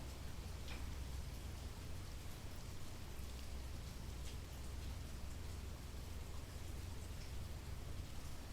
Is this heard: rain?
yes